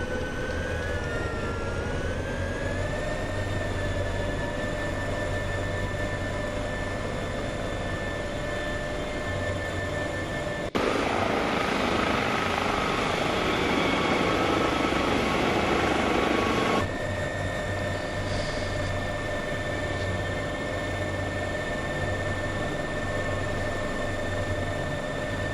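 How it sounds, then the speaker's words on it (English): Simulated aircraft engines spooling to full power in the X-Plane flight simulator: a steady, loud, continuous drone with tonal whine, rising into a broader roar for several seconds mid-clip before settling back. "And both engines to full power."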